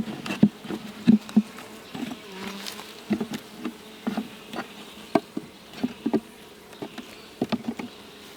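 Honeybees buzzing inside an abandoned hive being opened for inspection, a steady insect hum with scattered close buzzes of individual bees flying past and soft knocks from frames being handled.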